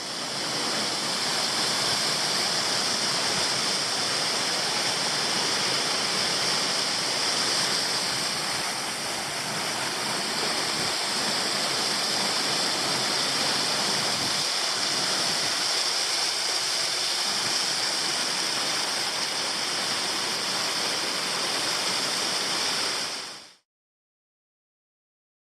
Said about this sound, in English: Pretty good flow of water, although you can imagine how amazing it'd be if it really was flowing high.